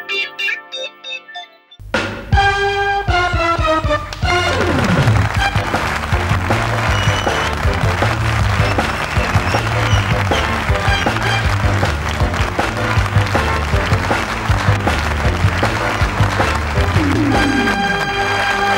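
Sustained audience applause for a playback singer fills a concert hall, a dense, loud wash of clapping that runs almost unbroken after a brief musical opening.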